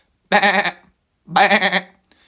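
A person imitates a sheep, giving two wavering, nasal bleats about a second apart, close and loud, with faint rustling after.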